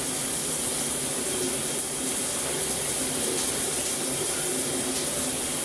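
Water from a shower faucet pours into a sample bottle as a steady, loud hiss that stays even throughout.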